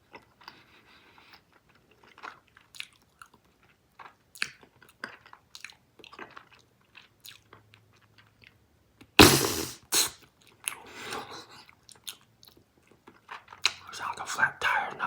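Close-up chewing of Big League Chew bubble gum, soft wet clicks and smacks in scattered bursts, with one louder crackling burst midway and quiet whispery mouth sounds between.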